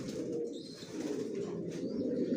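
Racing pigeons give low, continuous cooing at close range, a dense murmuring drone, with a few faint higher chirps above it.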